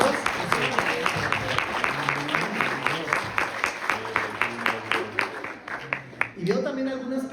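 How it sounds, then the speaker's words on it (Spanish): A church congregation at a Christmas celebration claps in a brisk round of applause, individual claps distinct and close, with voices underneath, before a speaker resumes talking at the end. "Un aplauso fuerte para todos."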